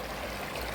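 A river stream flows in a brief, even rushing wash of water, close and steady, with no voices, in a rural river spot where people gather shellfish.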